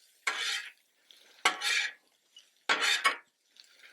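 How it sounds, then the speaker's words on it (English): Loaded breakfast fries with egg being stirred in a pan, three separate bursts of a utensil scraping and clattering against the metal, with faint sizzling in the quiet gaps between. "And then what we're going to do, we're going to just stir this up again."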